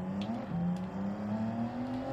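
A race car engine in Gran Turismo 7 at Spa-Francorchamps holds a steady, close drone whose pitch climbs slowly through the whole stretch, with no voices over it.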